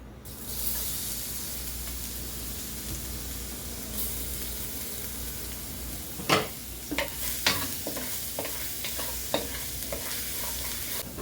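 Garlic frying in oil, giving a loud, steady hiss of sizzling, joined partway through by a few sharp utensil scrapes and taps as it is stirred.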